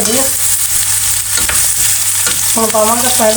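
Cauliflower fries in a pan for a sweet-and-sour carrot and cauliflower pickle, with a loud close sizzle and scraping stirring sounds throughout.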